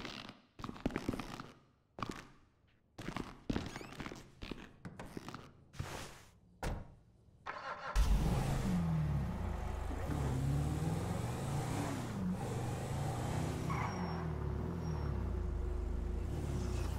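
A car in Grand Theft Auto V, first a run of separate thuds and door slams, then an engine starting up and driving with a steady loud rumble for the rest of the scene.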